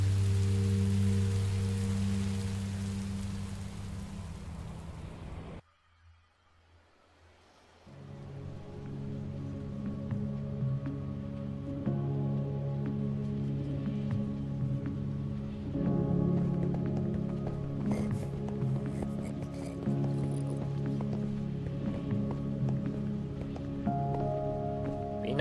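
Rain falling in the video game Minecraft: Story Mode: a steady soft patter of rain throughout, briefly dropping out, with game music tones underneath.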